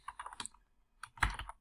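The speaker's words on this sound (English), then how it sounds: "My typing was better." Typing on a computer keyboard while setting up an estimating app, close quiet clicks in two short bursts separated by a brief pause.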